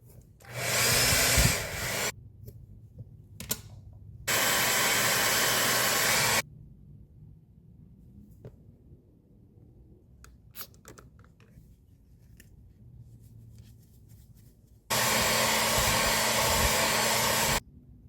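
Heat gun warming a Toyota Tacoma part in chilly outdoor air before double-sided tape goes on: three loud bursts of steady blowing roar, with quiet handling noises between them.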